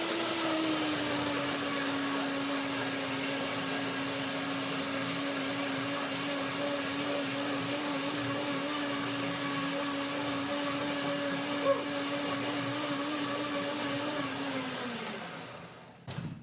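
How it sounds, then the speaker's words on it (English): A kitchen blender runs continuously, blending nuts and bananas for a berry and white chocolate cream dessert, a steady whirring motor hum close by that holds for several seconds and then winds down and stops near the end. "I blend now the nuts and the bananas."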